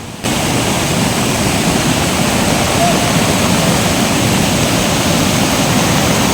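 A loud, steady roar of the Peechad waterfall in full monsoon flow near Munnar, Kerala, broad and continuous, filling the whole clip from close by, with rain blending into the wash.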